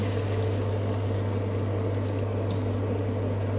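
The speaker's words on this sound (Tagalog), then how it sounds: "Saka konting tubig." Water being poured into a cooking pot with hoisin sauce while a fish dish is prepared, a steady close liquid pour and bubbling over a low hum, with no talk.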